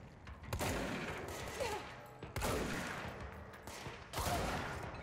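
Shotgun blasts from the video game Control ring out in a rapid fusillade of loud, booming reports, with three or four main bursts spaced about two seconds apart and a dense crackle of combat between them.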